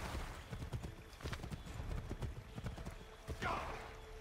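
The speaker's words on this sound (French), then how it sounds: "Mais mon cheval, il veut pas traverser." Horse hooves clip-clop steadily across terrain in the video game Assassin's Creed 3, a continuous rhythmic patter of close hoofbeats with a brief whinny near the end, under a voice.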